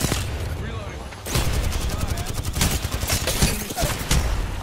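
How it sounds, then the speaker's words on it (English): Rapid automatic gunfire in a squad-based shooter video game, with dense bursts of shots crackling loudly and repeatedly at close range, and a voice talking over the firing. "The whole squad getting shot at."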